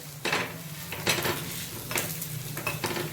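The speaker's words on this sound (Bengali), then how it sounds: "এবার প্রেস দিয়ে দিয়ে ভালোভাবে ফ্রাই করে নিতে হবে" Chicken pitha pressed down and fried in a pan, with repeated scraping and pressing strokes of a utensil against the pan over a steady sizzle, close and moderately loud, with no talking.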